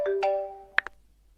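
A phone ringtone plays a bright electronic melody for under a second, then two sharp chiming tones ring out and fade into near silence, with no one speaking.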